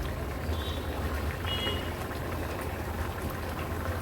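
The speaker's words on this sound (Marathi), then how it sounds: "हाय फ्लेमवर फक्त एक उकळी काढून घेते" Agri Koli style fish curry boils on a high gas flame, giving a steady, continuous low bubbling roar at moderate level with no talk.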